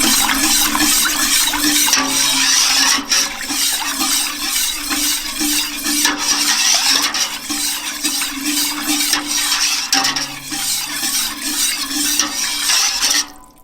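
Canned soup and sauce ingredients for chicken à la king whisked in a bowl, a steady wet swishing and churning with faint clinks of the whisk against the side, close and continuous throughout.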